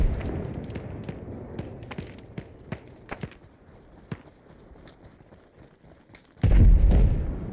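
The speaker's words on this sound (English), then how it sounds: "Be advised, taking heavy fire at Titan" Sharp gunshots crack one after another at irregular intervals across a quiet field in Arma Reforger, some near and some distant, before a heavy close explosion erupts near the end with a loud low roar.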